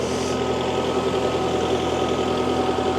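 A small Kubota MX tractor engine idles steadily with a low, even rumble and faint mechanical hum, continuous and close throughout.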